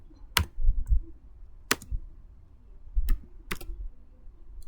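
Sparse keystrokes on a computer keyboard while entering a git command: four or five sharp, close clicks spaced unevenly, with faint low thumps between and no talk over them.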